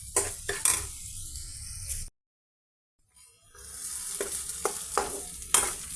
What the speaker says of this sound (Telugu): ఈ విధంగానే మీడియం ఫ్లేమ్ మీద ఈ ఆనియన్ పీసెస్ని ఫ్రై చేస్తున్నామండి.